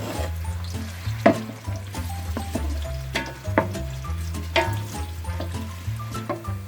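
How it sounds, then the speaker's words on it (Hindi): Onions frying in oil for beef nihari, a continuous close sizzle broken by scattered sharp stirring knocks and clatters, with no one speaking. "ये प्याज को हमने भूनना है अच्छी तरह"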